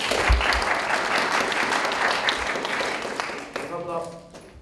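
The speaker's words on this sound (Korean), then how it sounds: "큰 박수 부탁드립니다" A student election forum audience applauds loudly and steadily for several seconds before the clapping thins out and fades.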